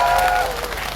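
Applause from the crowd at a union general strike rally, a brief burst of clapping over a loudspeaker hum with a faint sustained tone, fading slightly toward the end.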